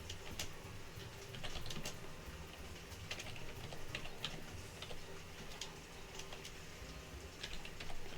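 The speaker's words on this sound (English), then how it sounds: "Yes, this is me finger typing in real time." Finger typing on a computer keyboard in real time, a steady stream of light clicking keystrokes at close range with no talking.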